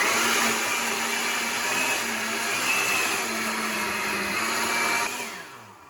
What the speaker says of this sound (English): I'm gonna put on my lid and I'm gonna let this puree. It's gonna get really loud